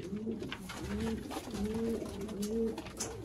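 A breeding pair of Sialkoti pigeons with green pearl eyes coos in deep, rolling phrases that repeat about every second, close and clear over a faint background hiss.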